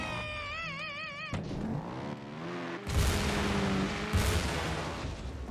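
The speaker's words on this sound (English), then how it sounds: "There's your explosion." In the video game Trials Evolution, on the Blast Factor track, electronic game sounds give way to two heavy booming explosion bursts spaced about a second apart over a rumbling background.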